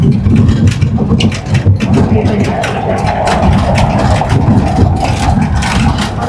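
A vintage car rumbles along a cobblestone street in Prague, steady low droning with rattling jolts, loud and close from inside the vehicle.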